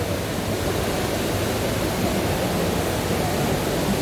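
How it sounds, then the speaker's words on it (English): Indoor resort fountains splash steadily in a large hotel atrium, a dense, even rush of falling water that holds at a constant level throughout with no voices. "There's some really cool fountains right here."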